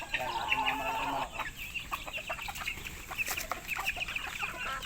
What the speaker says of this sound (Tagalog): Yan, ating mga malaki manok.